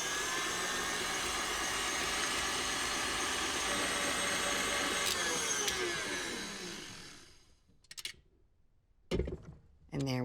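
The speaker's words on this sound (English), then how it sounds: "the yolks, just like the whites, I'll whip on high speed until they hold a ribbon" A stand mixer whips egg yolks on high speed, a loud, steady motor whine and whir that holds for several seconds, then winds down and stops, followed by a few brief clanks.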